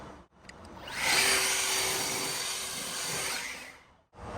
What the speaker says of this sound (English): So I'll blow this off with a leaf blower.